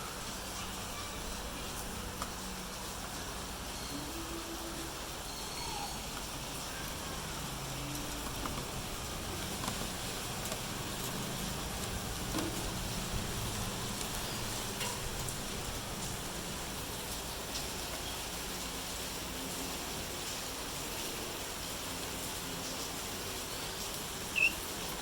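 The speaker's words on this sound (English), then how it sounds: "So it started raining heavily." Heavy rain pours outdoors in a steady, even hiss of falling water that stays constant with no breaks.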